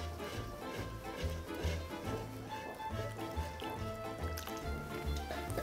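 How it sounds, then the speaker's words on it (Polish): Water poured into pizza dough while it is stirred by hand in a rhythmic, clockwise motion, a soft continuous wet trickle and squelch with a steady low thumping pulse underneath. "Jedna rączka ruszamy i druga nalewamy woda"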